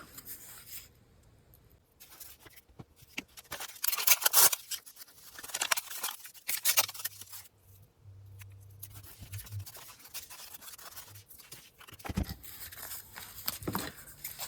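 Scissors trim a paper craft tag up close, with crisp snipping and rustling paper in uneven bursts and short pauses, fairly quiet and with no talking.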